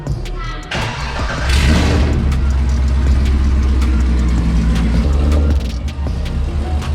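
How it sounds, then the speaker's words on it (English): A Corvette C5 engine cranks and catches, then settles into a loud, deep rumbling idle with steady low throb, close by. "Last start of the Vette before we go sell it"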